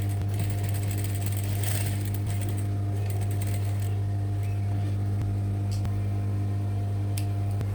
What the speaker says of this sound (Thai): เสร็จแล้วให้เย็บอีกข้างหนึ่งค่ะทำแบบเดียวกันไปชนตรงเส้นกลางไหล่ค่ะ